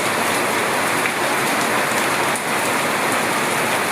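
Heavy rain pours onto plants in the Andaman Islands, a dense, loud, unbroken hiss of drops striking leaves close by with no voices.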